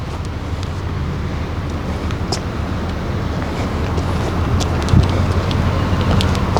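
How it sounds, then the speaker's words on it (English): Strong wind gusting at the old Church Street Pier in Georgetown, a steady broad rushing roar with microphone buffeting and a few faint distant clicks, no talking. "Very windy."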